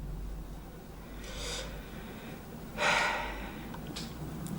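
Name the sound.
sniffing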